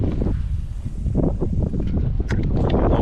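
Wind buffeting the microphone on a small boat heading into a cold headwind, a gusty low rumble with faint water slaps and rustling.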